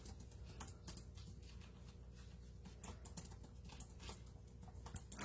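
Soft keyboard typing in an irregular stream of light taps, faint and distant against a low steady background hum, with no voices.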